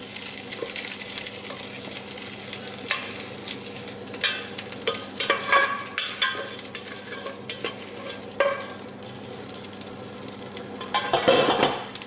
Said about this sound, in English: So now we can add our rice into the pan. Our rice is cooked, and I will add it in.